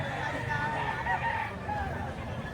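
Five-month-old fighting cocks crow amid a busy gathering, the drawn-out call rising over a steady background murmur and nearby voices.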